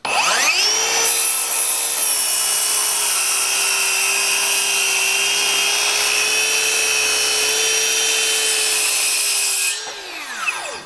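A Ryobi ONE+ HP 7-1/4 inch battery circular saw cuts through wood with a loud, sustained whine and rasping bite for about nine seconds, then spins down quickly as the blade brakes.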